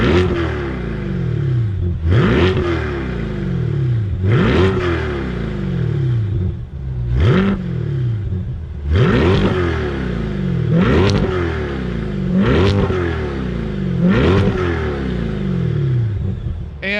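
A C8 Corvette on its stock exhaust revs repeatedly, about eight sharp blips that each rise quickly and fall away in a regular rhythm, loud and close with no talking.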